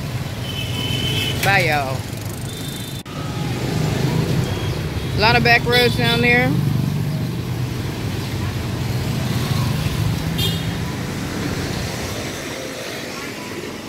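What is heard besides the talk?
street traffic in Tay Ho, Hanoi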